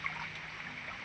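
Shallow creek water flowing past ferns in a rural stream, a soft, continuous trickling hiss that stays even and fairly quiet, with no talking.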